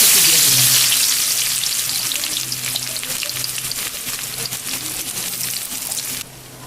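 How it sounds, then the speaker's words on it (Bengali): Chopped onions hit hot oil in a pan for a mutton curry, giving a loud, steady sizzle and crackle close up that eases slightly and drops off abruptly near the end. "এখন এই তেলের ভিতরেই আমি পেঁয়াজ কুচি দিয়ে দিলাম"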